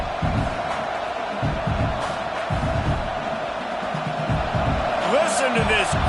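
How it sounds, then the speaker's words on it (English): A stadium crowd roars steadily in a Madden college football video game, a loud, dense wall of cheering under a commentator's voice, swelling with brief whoops. "Listen to this crowd just shaking the girders of this place trying to help their defense."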